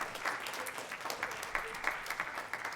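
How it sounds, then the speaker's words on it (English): A fairly quiet, thin round of applause from an audience at an eighth grade band Christmas concert, with scattered distinct claps within a soft steady patter. "So if you could give him a round of applause"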